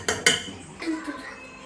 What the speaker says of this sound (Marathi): तर आता आपण लगेच याला झाकण लावूया कुकरचं.